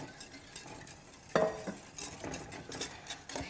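A whisk working pastry cream in a pot, soft repeated stirring swishes with a light metallic clink near the start, close but quiet against a faint background hiss.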